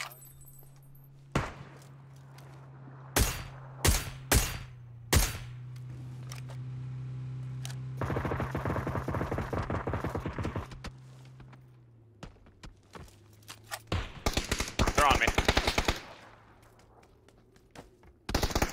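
Shotgun blasts from a video game, several loud separate bangs spaced a second or so apart, with rattling bursts of clatter between them.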